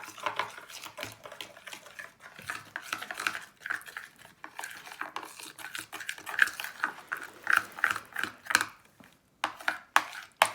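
Irregular sticky squelching and tool scraping come from close by as salt is stirred into a homemade slime mixture in a bowl, with no talking.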